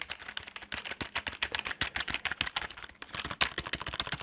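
Fast typing on a quiet Euro 4 Magma gaming keyboard, a dense run of soft, muted key clicks in an uneven rhythm, close and continuous with no talking.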